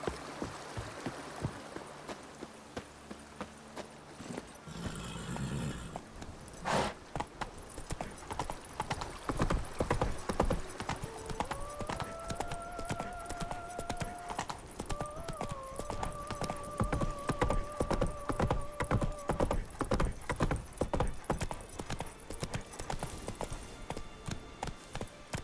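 Roach, the horse in The Witcher 3, gallops with a steady, even clip-clop of hooves through the whole stretch, while soft tonal game sounds drift in the background.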